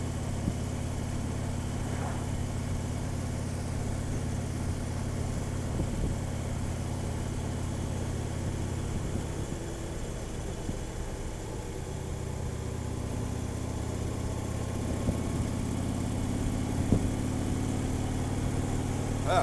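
A motorcycle engine runs steadily during a ride, giving a continuous low drone that stays at an even level throughout.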